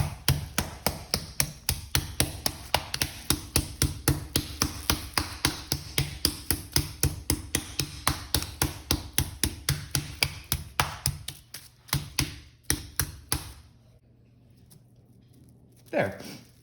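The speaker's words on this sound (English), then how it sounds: "the mallet first, just to try and flatten it, because turkey is a little bit tender, just like chicken" A meat mallet pounds a turkey breast flat in a kitchen, striking in a fast, steady run of close, solid thuds for about eleven seconds, then a few slower scattered blows before it falls quiet.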